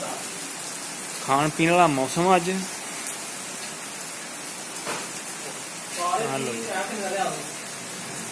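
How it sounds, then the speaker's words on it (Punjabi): Heavy rain in a Punjabi village, with a large peepal tree and an old well nearby. A steady hiss of rainfall runs throughout, and someone talks over it in two short bursts. "ਪਿੰਡ ਰੰਗੜ ਪਿੰਡ ਦੀ ਬਾਰਿਸ਼ ਦੇਖੋ ਜੀ"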